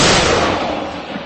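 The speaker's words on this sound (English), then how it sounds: "the violent artillery duel that has come to define this war thunders across the front lines" A single loud, close blast from an M777 howitzer firing on a front line, a broad thunderous boom that rolls off and decays over about a second.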